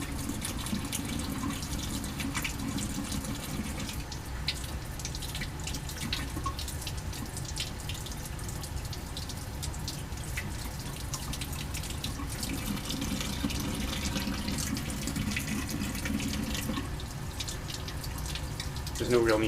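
Tap water runs steadily into a lab sink while glassware used for an ester extraction is rinsed under the stream, a continuous close splashing flow with faint trickles and a brief louder surge near the end.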